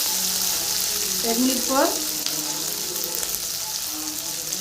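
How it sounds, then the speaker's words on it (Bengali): Ginger and tomato frying in a pan with a little salt, cooked down for chana dal: a steady, close, even sizzle lasting throughout, with a brief voice passing over it midway. "আদা টমেটোটা কষিয়ে দেখাচ্ছি"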